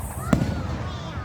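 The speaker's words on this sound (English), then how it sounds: "Here's how I'm watching fireworks of the Cougers game." Fireworks bursting in the night sky after a Cougars game, one sharp loud boom followed by rumbling echoes and crackle, with faint crowd noise around it.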